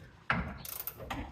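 Socket wrench ratcheting on a bumper bolt of a 1994 Chevy K1500 truck, a quick series of close metallic clicks following a single knock.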